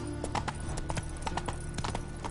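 The hooves of the horse Roach clip-clop in an even rhythm at close range, steady and clear in the Witcher 3 video game.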